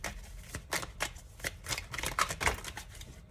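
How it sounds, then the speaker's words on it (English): Tarot cards are riffled and shuffled close up in a rapid series of crisp papery flutters and slaps, steady and moderately loud, with no voices. "I'll go ahead and put them back in and continue shuffling"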